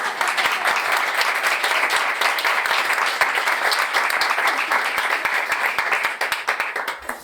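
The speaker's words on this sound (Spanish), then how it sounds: "Podéis aplaudirle." Audience applause at an architecture seminar and conversation session, a loud, dense burst of many hands clapping, sustained evenly for about seven seconds with sharp individual claps standing out.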